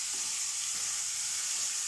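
Potatoes sizzle steadily as they fry in a pan for a broccoli and potato sabji, a continuous close hiss with faint stirring and no voices.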